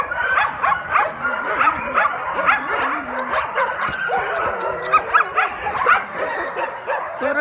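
Several dogs in an animal shelter enclosure bark, yip and whimper together in a continuous, loud, overlapping chorus that carries on throughout, close by.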